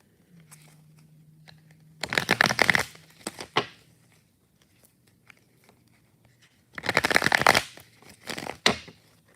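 Tarot cards are shuffled in two brisk, crisp bursts separated by quiet, with a few softer riffles in between.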